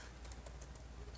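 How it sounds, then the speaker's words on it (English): Quick light keystrokes on a computer keyboard, a short irregular run of soft clicks close by in a quiet room. "I think I'm typing."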